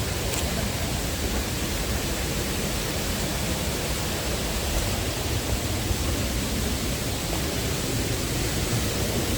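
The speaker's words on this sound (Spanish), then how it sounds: "Llegamos a la entrada de la cascada del Limón." Rushing water at El Limón waterfall makes a dense, constant roar that holds at an even level from start to finish, with no clear voices above it.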